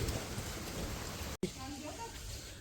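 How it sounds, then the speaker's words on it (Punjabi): Rain falls steadily in a Punjabi village, a dense, even patter with a brief cut partway through and faint voices audible beneath it. "ਮੀਂਹ ਆ ਗਿਆ ਦੁਬਾਰਾ"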